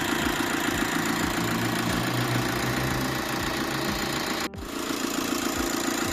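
A VW Caravelle T5.1 diesel engine idles during injector cleaning, giving a steady, loud knocking rumble with an even rhythm throughout and one brief dip near the end.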